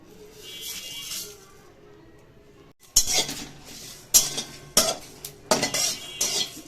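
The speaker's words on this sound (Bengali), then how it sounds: "এইগুলো আমি শুকনো খোলায় ভেজে নেব" Whole cumin, coriander, fennel, a dried chilli and a bay leaf dry-roast in a pan without oil, with a spatula scraping and clinking in sharp repeated bursts after a quieter opening.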